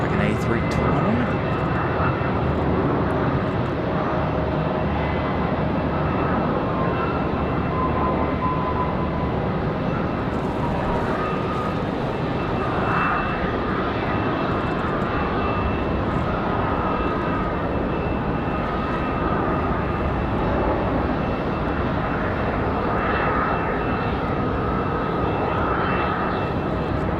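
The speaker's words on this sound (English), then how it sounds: "Another 737 arrival. Looks like an A320." An Airbus A320 jet airliner arriving at Raleigh-Durham airport, its steady engine roar filling the whole stretch under a windy rumble, with a voice talking over it throughout.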